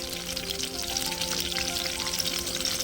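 Tempering seeds sizzle in hot oil, a close, steady crackling hiss with dense popping spatters throughout and no voices.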